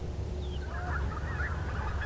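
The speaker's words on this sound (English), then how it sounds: "Snow geese and white-fronted geese again." Snow geese and white-fronted geese honking and yelping in a distant flock, their calls layered over steady low outdoor rumble.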